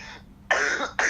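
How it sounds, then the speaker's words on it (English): Two short, harsh coughs close to the microphone, separated by a brief pause. "What is coughing?"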